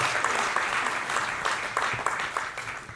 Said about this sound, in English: Big round of applause for the best man in there.